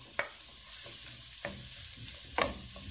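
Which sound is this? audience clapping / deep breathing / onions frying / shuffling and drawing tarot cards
onions frying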